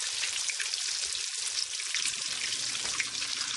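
Pieces of brie cheese fry in a hot pan with a steady, dense sizzle and crackle that stays close and even throughout, with no voices.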